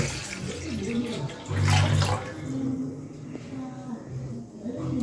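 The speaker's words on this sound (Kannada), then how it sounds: "ಸೊ ಇದನ್ನು ಬಿಸಿ ಮಾಡೋಕ್ಕೆ ನೀರು ಹಾಕೋಣ." Water is poured into a vessel to heat it, with a brief splashing gush in the middle and a softer trickle around it, mixed with background voices.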